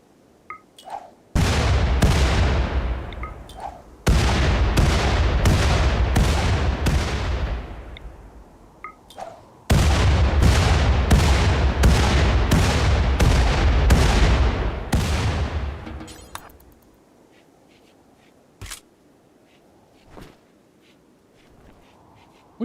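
Frag grenade explosions in a video game, a long run of loud, closely spaced booming blasts in clustered salvos, then fading to a few isolated faint bangs and quiet.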